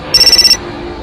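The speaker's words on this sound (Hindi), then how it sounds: "फोन लगातार बजे ही जा रहा था।" A telephone ringtone chimes in a quick burst of about seven bright, even pulses, loud and alone, used as a sound effect in a Hindi horror story narration.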